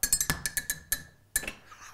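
Light ceramic clinks tapped in a quick, uneven rhythm, about a dozen bright taps close by, with a short pause before a final few.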